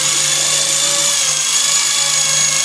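A Traxxas QR-1 quadcopter drone hovering indoors, its small rotors giving a loud, steady high-pitched whine with a constant tone and no pauses throughout.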